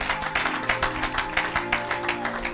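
A church congregation applauding together, steady rhythmic clapping from many hands that fills the room at a lively, even pace.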